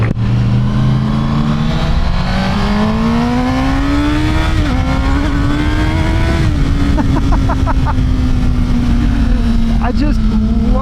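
A Honda CBR 1000 RR sport motorcycle is ridden, its engine droning steadily and rising in pitch as it accelerates, then easing, loud and close with wind noise while a rider talks over it.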